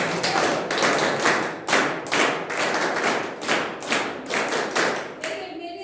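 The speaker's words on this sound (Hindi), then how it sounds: "ये जो लोग मेहनत करके आए हैं उनके लिए एक बार और ताली" A classroom group of people applauds students who presented an activity, giving a loud, close burst of clapping that pulses in rough waves of rhythmic claps for several seconds before it fades out.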